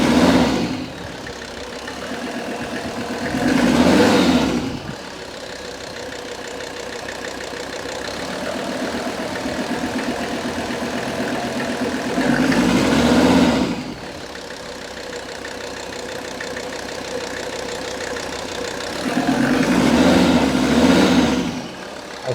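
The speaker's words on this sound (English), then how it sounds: "I'm just gonna rise the revs a bit." A worn Mercedes-Benz S123 300TD diesel with about 720,000 km idles with a steady clatter, then rises in three separate revs, each held for a couple of seconds before it drops back to idle.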